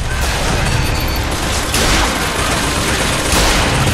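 Loud, dense gunfire from a first-person shooter video game, Bioshock Infinite, with rapid overlapping shots and blasts running continuously without pause.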